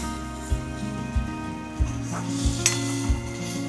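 Raw mango pieces sizzling in a pan for a Gujarati vagharu, a soft steady frying hiss broken by regular scraping taps as they are stirred.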